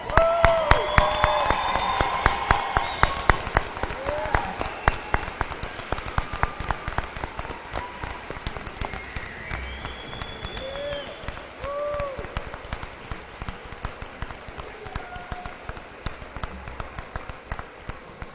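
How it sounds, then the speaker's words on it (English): A crowd at a high school graduation applauds steadily for a long stretch, the clapping gradually thinning, with occasional cheers and whistles mixed in. "Let's give them a round of applause."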